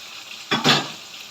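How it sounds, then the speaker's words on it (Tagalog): A quick stir of a coconut-milk banana blossom dish with tilapia in a pan, one short scraping swish with a brief sizzle, close and alone against low background hiss. "Haluin lang natin."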